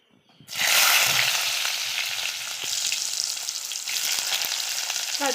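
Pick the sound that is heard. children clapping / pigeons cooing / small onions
small onions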